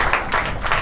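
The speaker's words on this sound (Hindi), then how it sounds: "इसलिए ताली बजाओ उनके लिए" Brief burst of audience clapping at a church Sunday service, a dense wash of hands filling the short moment.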